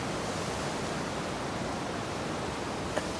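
Water from above runs down a stream into a river near the Nepal–China border, a steady broadband rushing hiss, close and continuous, with no voices.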